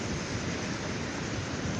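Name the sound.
ocean waves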